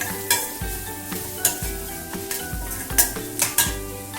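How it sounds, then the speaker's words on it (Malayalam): Green chilli and ginger are sautéed in a pan over a medium flame, with a steady sizzle and sharp metallic scrapes of a spatula recurring every half second or so, close and clear, with no voices. "ഈ മീഡിയം ഫ്ലെയിമിൽ വച്ചിട്ട് നന്നായിട്ട് വഴറ്റി കൊടുക്കണം."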